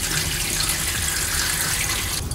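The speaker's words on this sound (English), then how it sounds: "you guys want to pour out all the water first" Water pours steadily out of a ZeroWater 5-stage filter pitcher, a continuous splashing gush at close range, loud and unbroken throughout.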